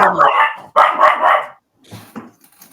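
A dog barks loudly and close by in two quick bursts, then gives a few softer yips and whimpers after a short pause.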